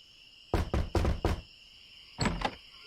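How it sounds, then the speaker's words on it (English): Knocking on a door in the point-and-click adventure game Secret of Monkey Island: three quick sharp raps followed by a short pause and two more knocks, loud and close over a faint steady background hum. "I think I'll knock."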